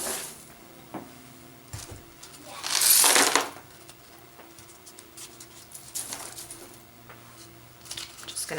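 Potting soil mixed by hand with worm castings and charcoal for repotting aroids, soft crumbly rustling and shifting close by, with one louder pouring rush and quiet handling in between.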